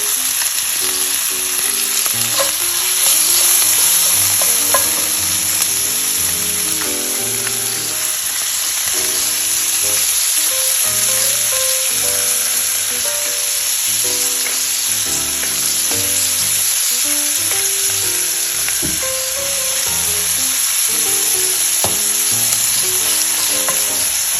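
Ground beef frying in a pan for a meat sauce, a steady loud sizzle with scraping and stirring as the meat is broken up, continuous throughout with no talk.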